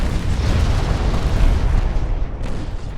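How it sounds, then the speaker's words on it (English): Torpedo detonation in the naval game Ultimate Admiral Dreadnoughts: a loud, deep rumbling boom that fills the clip and then slowly fades, with no talk. "Torpedo detonation, good."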